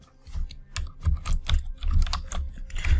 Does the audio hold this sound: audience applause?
no